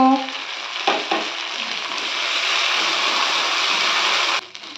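Garlic, ground ginger, green chili and cumin frying in hot oil for a tomato rohu fish curry, a loud, dense sizzle with a couple of stirring scrapes near the start before it cuts off abruptly near the end.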